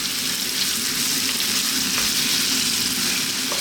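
Streaky bacon fries over above-medium heat in a pan, a dense, even sizzle that holds steady and close for the whole stretch with no talking.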